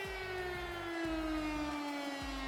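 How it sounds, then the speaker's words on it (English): A wailing stadium siren blares in Madden 26 as the Arizona Cardinals take the field, a steady sustained tone that slowly falls in pitch, loud and continuous over rhythmic low crowd or music pulses, with no talking. "Big Red with the siren."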